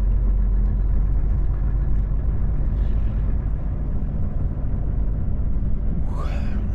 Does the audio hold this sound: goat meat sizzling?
no